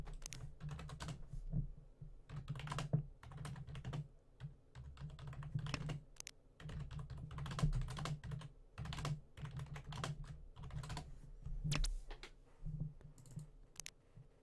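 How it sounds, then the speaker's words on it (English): Someone types on a computer keyboard in bursts of quick clicks for about fourteen seconds, with brief pauses between runs. Under the keys sits a low hum, and no one speaks. "apologies for typing"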